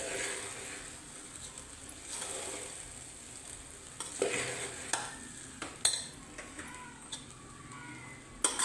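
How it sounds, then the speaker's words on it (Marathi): Sago khichdi stirred in a pan over a low gas flame makes a soft, quiet sizzle, broken by scattered clicks and scrapes of the spoon against the pan, with no speech. "गॅस बारीक करून घ्यायचा आणि साबुदाणा एकसारखा असा हलवून घ्यायचा"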